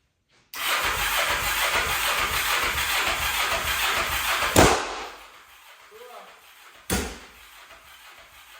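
A new 500R engine on a kraken build cranks loudly and roughly for about four seconds without catching, falls quiet, then gives one more short sputtering burst.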